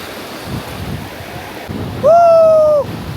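Surf washes steadily onto a Russian beach in Goa with a soft, rushing roar. Near the end, a loud, brief high tone rises over the waves and cuts off.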